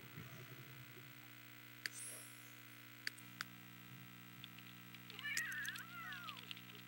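A cat gives a few faint meows near the end, rising and falling in pitch over a quiet room with a low electrical hum and a couple of sharp clicks.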